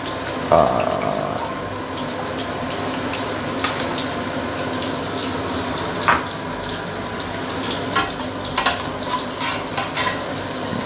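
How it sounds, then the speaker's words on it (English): Pork belly deep frying in oil over medium to medium-high heat, a steady broadband sizzle and bubbling with occasional sharper clinks and scrapes of a spatula, close and fairly loud, no talking. "So use medium to medium high heat to slowly fry it."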